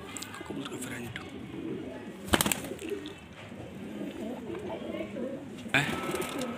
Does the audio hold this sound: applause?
no